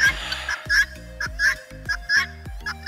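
Farm chickens and other fowl at a family farmhouse clucking and squawking in short repeated bursts, fairly close, with a steady low hum beneath.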